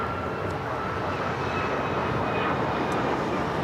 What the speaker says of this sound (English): 502 taking off to Phoenix on the MAX 9.